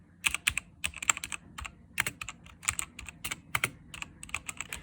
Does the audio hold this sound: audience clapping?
no